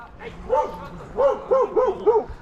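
A small, cranky dog, likely a chihuahua, barks in a series of sharp yips near the microphone, with a few barks spaced apart and then a quicker run of four toward the end, against faint outdoor noise.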